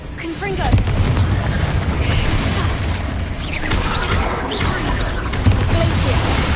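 The Confringo explosive spell in Hogwarts Legacy goes off amid dense, loud combat noise, with booming blasts and a steady rumble running throughout while a voice shouts spell names over the action.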